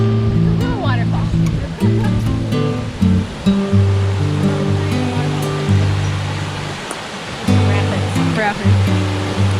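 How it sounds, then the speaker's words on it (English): Waterfall at Willow River State Park, a steady rushing roar of water heard from nearby, with people talking over it throughout. "Waterfall."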